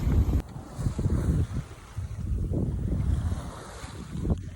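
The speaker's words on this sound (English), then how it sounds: "I think it's blowing around 20 knots, gusting a little higher from the" Gusty wind of about 20 knots buffets the microphone while waves slosh and surge against a hull at sea on the Atlantic, a continuous blustery roar with no voices.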